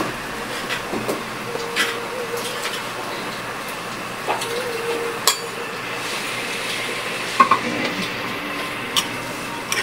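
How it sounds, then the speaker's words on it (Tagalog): A utensil stirs string beans and bitter melon simmering in coconut milk in a pan, giving scattered light clinks and taps against the metal over a quiet, steady background. "Haluin natin siya."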